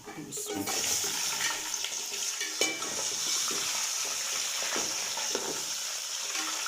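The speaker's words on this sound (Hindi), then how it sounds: "अब इसको थोड़ा सा फ्राई करना है" Chicken pieces added to hot oil with browned onions for a one-pot biryani sizzle and crackle steadily at moderate volume, with occasional stirring knocks.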